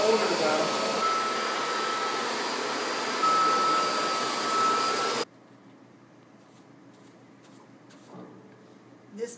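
An antique Kirby vacuum cleaner runs with a loud, steady whine and airy roar, then cuts off abruptly partway through. Only faint room sounds and a few soft knocks follow.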